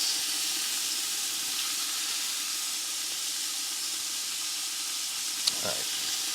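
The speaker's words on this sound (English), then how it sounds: "starting to get a good sear on this" Meat searing on a Blackstone griddle gives off a steady, even sizzle and hiss that holds through the whole stretch, with one brief sharp tick near the end.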